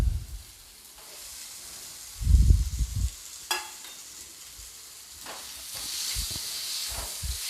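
Potatoes sizzle in hot oil with achari masala while being stirred, a steady frying hiss broken by a few louder scraping stirs near the pan.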